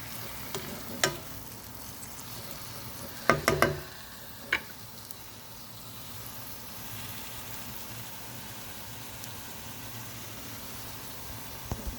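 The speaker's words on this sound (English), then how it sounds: "It's starting to wilt down a little bit more. The onion and the tomatoes getting well cooked." Onion and tomatoes fry in a pan with a soft continuous sizzle, broken by a few sharp utensil knocks and stirring clicks near the start.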